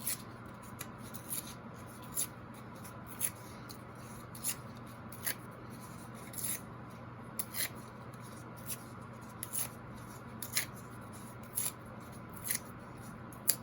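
Colored paper is torn by hand in short, separate rips, about one every second, each a brief crisp tearing burst over a steady low hum with no talking.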